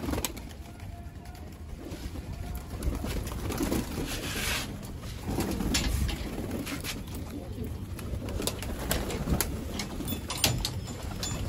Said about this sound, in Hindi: तो भाई ये कबूतर सारे खोल दिए मैंने।